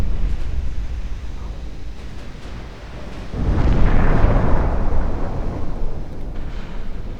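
Torpedo impacts on a pre-dreadnought battleship in a naval combat game: a steady low rumble swells into one deep, roaring blast partway through that keeps thundering to the end.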